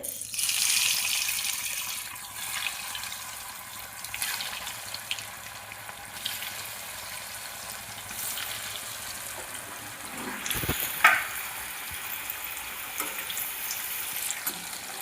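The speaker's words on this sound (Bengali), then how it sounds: "তেলটা গরম হয়ে গেছে, আমি ছেড়ে নিচ্ছি এক এক করে।" Vegetable chops dropped one by one into hot oil, making a steady hissing sizzle that swells at the start and continues at moderate level with occasional louder pops and clatters, no voices.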